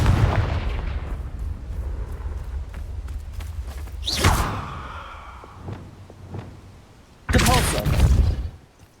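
Fiery Confringo spell blasts in the wizarding video game Hogwarts Legacy, a sharp burst near four seconds and a louder, longer roaring blast near the end, over a busy low rumble of combat.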